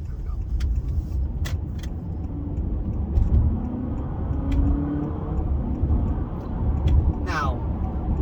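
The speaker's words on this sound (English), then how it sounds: "So we're going to accelerate a little bit here." A 2024 Honda Accord Hybrid accelerates, its low road and engine hum rising gently inside the cabin, with small clicks and ticks on top while someone talks over it.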